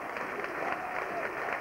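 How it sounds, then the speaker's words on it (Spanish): Arena crowd applauding a player at a 1991 Spanish league basketball relegation playoff game in Bilbao, a continuous wash of clapping heard briefly and at moderate distance. "Mark Simpson es aplaudido por el público de Bilbao, que realmente se lo ha merecido."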